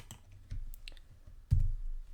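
A few quick clicks of keys on a computer keyboard as a formula is typed, light and close, with a firmer tap near the end and no talk.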